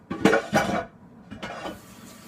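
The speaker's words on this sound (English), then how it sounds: "I'm going to put my dirty pot in the sink and rinse it." A dirty cooking pot clanks against a kitchen sink in a few quick metallic knocks and scrapes, close and clear, with no talking.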